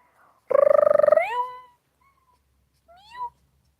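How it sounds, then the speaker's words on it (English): A young cat, nearly a year old, lets out a loud, drawn-out baby-like cry that rises at the end, followed after a pause by a shorter, softer rising mew, with no talking. "My cat's almost a year old, but she still sounds like a baby."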